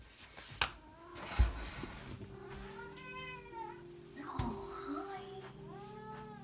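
A cat meows several times close by, drawn-out and wavering, with a couple of soft thumps and light background noise.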